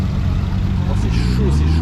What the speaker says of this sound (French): Et là on a la Corvette qui arrive.